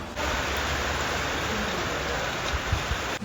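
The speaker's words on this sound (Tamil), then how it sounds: "வேறு லெவலில் மழை." Heavy rain in Kodaikanal, a dense, steady hiss of downpour that holds evenly for the whole stretch, loud and close with no voices over it.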